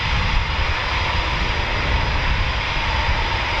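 Eurofighter Typhoon FGR4 fighter jet taking off at RAF Coningsby, a steady, loud broadband jet engine roar heard from nearby, holding constant without a break.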